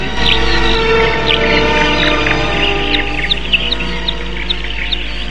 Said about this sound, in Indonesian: Di pagi yang cerah, burung-burung bersenandung dengan riangnya.